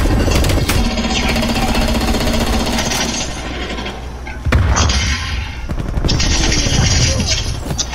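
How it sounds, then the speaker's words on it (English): A minigun fires in the video game Call of Duty Cold War as a loud, continuous rapid rattle of shots that briefly falls off near the midpoint and then resumes at full intensity. "Put that minigun down, boy."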